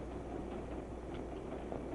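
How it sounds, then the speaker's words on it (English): A low, steady rumble of a moving train, muffled and constant, with faint rhythmic clatter beneath it. "the racket of the train"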